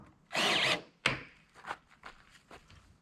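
Power drill driving screws into greenhouse corner trim, a loud sustained whir followed by a sharp burst and several shorter, fainter bursts and taps close by.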